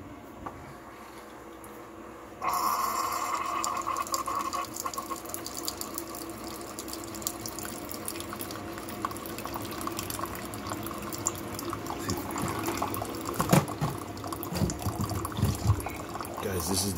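Water is poured into an old Keurig coffee maker mixed half and half with coffee pot cleaner, a steady splashing fill that starts abruptly and runs on, with some clatter and handling noise near the end.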